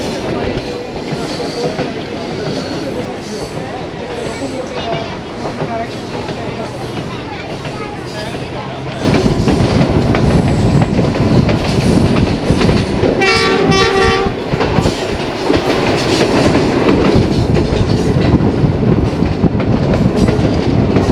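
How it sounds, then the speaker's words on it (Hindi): A Bulleh Shah passenger train runs on the tracks near Kasur Junction, its steady loud rumble and wheel clatter swelling partway through, with a brief horn blast in the middle, heard from on board. "अभी फ़िलहाल ट्रेन कसूर जंक्शन के यार्ड में दाखिल होने"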